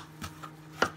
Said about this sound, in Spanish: Picamos bien.